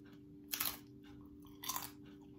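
Two separate crunchy bites into homemade veggie nachos, close and crisp, each a short burst of crackling chewing over a quiet background with a steady low hum.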